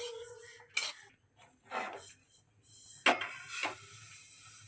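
Dry-roasted dalia is scraped and tipped from a pan onto a plate, with a few distinct metallic clinks and scraping sweeps of a spoon against cookware, close and moderately loud in a quiet kitchen.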